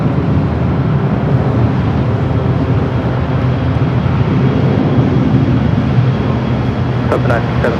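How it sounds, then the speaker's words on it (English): A JetBlue Airbus A321 arriving at LAX from Newark gives a loud, steady broadband jet roar that stays constant throughout, with a few brief clicks near the end. "Next arrival here on the north side, JetBlue Flight 1573 coming in from Newark in A321."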